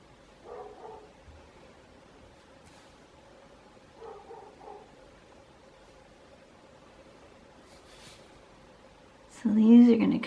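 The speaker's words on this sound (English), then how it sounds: "That is a different dog than what normally barks." A neighbouring dog behind the house barks in a few short, distant bursts, with a louder, closer yelp near the end over a quiet outdoor background.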